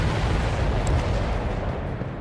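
Explosion of a destroyed enemy transport in the combat flight game Ace Combat 7, a dense, steady rumbling roar filling the whole clip at high level, with no speech.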